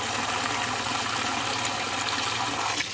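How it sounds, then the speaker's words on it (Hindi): Water from a motor pump pours steadily into a water pot meant for pigeons, a continuous close rushing gush that holds constant before easing slightly at the end. "ये मैंने इनका बर्तन उठाया हुआ है पानी का, इसमें पानी भर कर मैं रखता हूँ कबूतरों के आगे"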